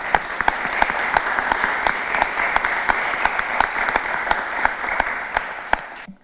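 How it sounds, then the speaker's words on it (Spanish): Loud audience applause after a talk on corruption risks for public officials, a full crowd clapping with some sharp individual claps standing out, steady throughout and then cutting off abruptly. "Fuerte aplauso, por favor."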